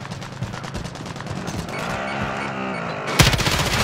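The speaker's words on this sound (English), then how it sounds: "Taking fire over here." Rapid automatic gunfire in Call of Duty: Warzone, a dense burst of repeated shots rattling steadily for several seconds, with a louder close volley near the end, loud and with no voices.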